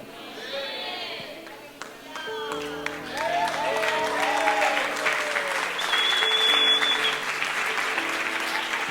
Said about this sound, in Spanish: póngase de pie y dele un buen aplauso